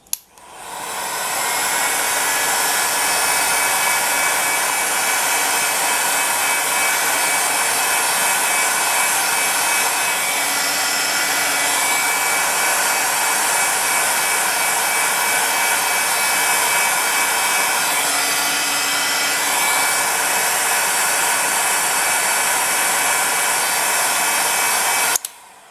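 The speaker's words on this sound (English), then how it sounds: "Now you can take the heat gun very quickly and just set the wax a bit." A heat gun blows steadily and loudly to set wax on a polished surface, a continuous even whoosh running alone for about 25 seconds before cutting off.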